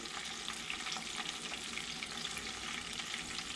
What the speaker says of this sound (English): When your oil's right, your breading, your flour will sizzle real nice.